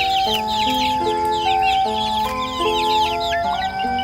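A mother hen with her chicks in a forest, with steady clucking and high chirping peeps from a cartoon-style story, heard over a continuous gentle musical backing.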